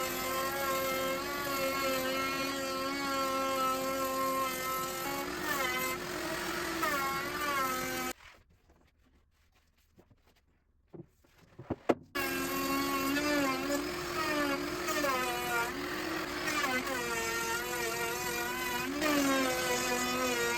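A power tool whines steadily while cutting a 3/8-inch by 3/8-inch rabbet into a premium wooden workbench top for a Husky adjustable-height bench. The tone is loud and continuous, breaks off for a few seconds of near silence, then resumes.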